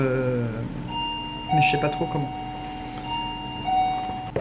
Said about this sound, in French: C'est ma sonnette qui déconne encore une fois.